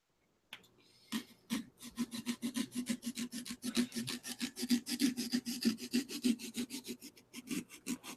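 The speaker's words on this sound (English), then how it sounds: "I'm just sawing away now." A hand saw cuts rhythmically through wood, with steady back-and-forth strokes repeating quickly and evenly for several seconds at close range.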